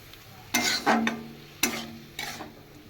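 Fried yardlong beans with yogurt being stirred in a pan, a few distinct scraping strokes with soft sizzle between them, close and fairly quiet, with no talk.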